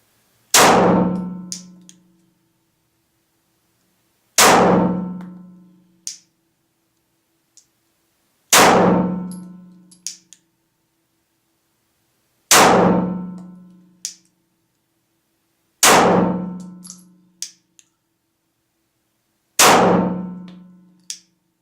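A Glock 17 Gen4 pistol fires ten rounds at a steel target, loud sharp shots spaced a few seconds apart, each followed by a ringing metallic clang from the struck plate.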